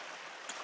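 A creek flows in a steady, close, broadband rush of water with no pauses, heard alone for under a second.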